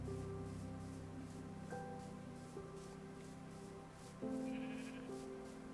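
Sheep bleating in Minecraft, a steady, faint wavering bleat under a continuous background music bed with sustained tones, no talk.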